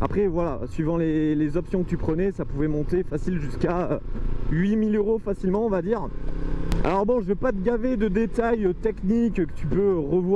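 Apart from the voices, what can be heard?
No everyday noise stands out behind the speech.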